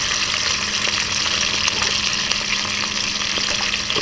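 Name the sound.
tofu frying in hot cooking oil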